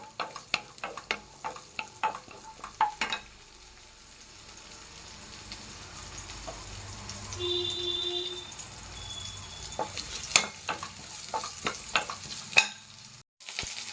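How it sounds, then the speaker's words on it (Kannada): Onions fry in oil in a home kitchen, giving a soft, steady sizzle broken by light stirring scrapes and taps, close and fairly quiet. "ನೋಡಿ ಫ್ರೆಂಡ್ಸ್, ಎಣ್ಣೆ ಹಾಕಿದ್ದೀನಿ. ಈಗ ಈರುಳ್ಳಿನ ಫ್ರೈ ಮಾಡ್ಕೊತಾ ಇದ್ದೀನಿ."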